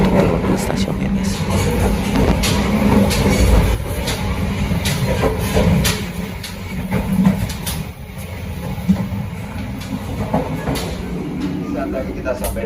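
The KA Malabar Economy Premium train runs at night from Yogyakarta toward Leles, with a loud, continuous rumble and rattle of the carriage, occasional clanks, and faint voices underneath.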